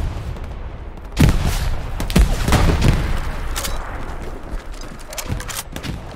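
Gunfire in the World War II shooter Hell Let Loose: loud rifle and machine-gun shots crack out in irregular bursts over constant battlefield rumble, with a few heavier thumps mixed in and a voice speaking briefly under the shots.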